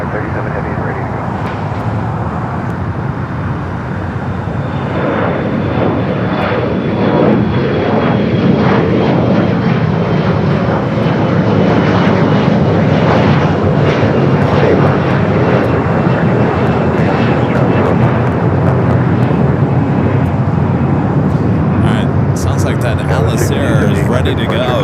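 A Giant 8537 Heavy cargo jet at LAX, set for takeoff on runway 25 Left, gives off a loud, steady engine roar that holds broad and unbroken throughout, with outdoor background noise.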